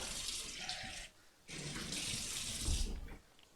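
Cold water running from a kitchen tap into a measuring container: a steady hiss of flow, cut briefly in the middle, then resuming.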